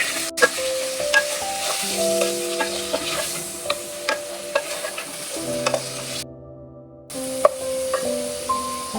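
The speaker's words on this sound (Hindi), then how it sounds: "अब हम इसको अच्छे से मिक्स कर लेंगे।" Chicken pieces sizzle in a hot pan while being stirred with black pepper and salt, with steady frying hiss, repeated spatula scrapes and clinks, and a brief quiet gap near the end before the stirring resumes.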